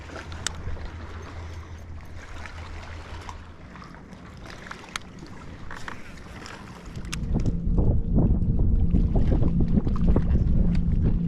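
Wind gusts across an open fishing boat, starting as a moderate rush and swelling into a louder, rougher roar over the final seconds, with faint knocks and creaks from the hull in between.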